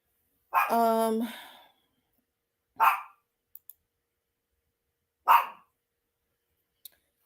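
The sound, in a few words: dog barking, afraid of thunder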